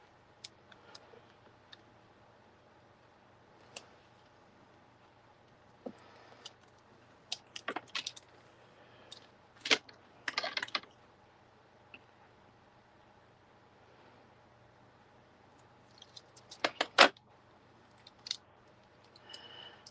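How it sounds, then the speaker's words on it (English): Tape is peeled and pressed onto a package, heard as sparse, sharp crackles and tearing bursts, close and fairly quiet, scattered across long near-silent stretches. "Stick some tape on there."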